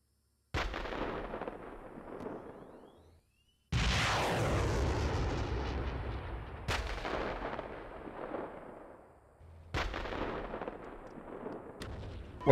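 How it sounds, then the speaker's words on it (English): A missile launch in a combat game brings heavy booming blasts and explosions. Four separate deep, rumbling detonations roll out and decay over several seconds each, with no voices. "Well, somebody fired your missile."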